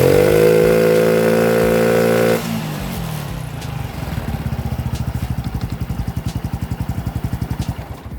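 A Honda Wave 110i motorcycle engine, fuel-starved and sluggish, whines high at first, then drops to a loud, close, rhythmic chugging putter.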